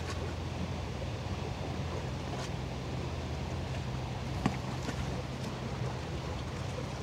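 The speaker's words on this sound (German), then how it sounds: "Passt zu dem kleinen Windstoß." A small gust of wind sweeps across the Elbe river with ships nearby, a steady broadband rush of wind and water noise with a faint thump partway through.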